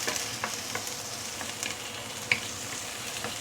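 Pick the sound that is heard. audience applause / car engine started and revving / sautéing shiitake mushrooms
sautéing shiitake mushrooms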